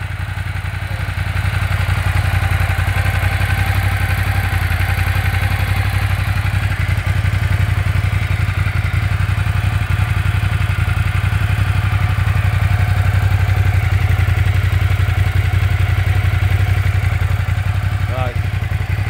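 A new Ducati 1200 S motorcycle idles with a steady, unbroken low rumble for the whole stretch, the engine note holding even and close without revving.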